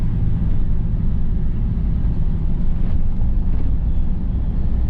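A Ford F-150 pickup, just rebuilt after a blown head gasket, drives along pavement with a steady, unbroken rumble of engine and road noise, fairly loud and constant throughout, with no one talking.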